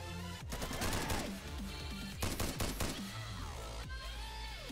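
A support gun fires in Insurgency, loud bursts of rapid gunfire crackling almost continuously over a dense game soundtrack.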